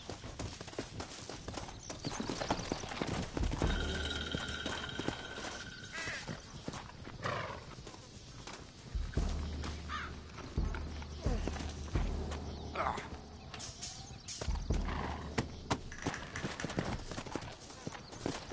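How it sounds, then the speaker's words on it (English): Horse hooves clip-clop in a quick galloping rhythm amid Red Dead Redemption game ambience, with occasional snorts and brief voices mixed in. "Looks like Carlos left us some horses."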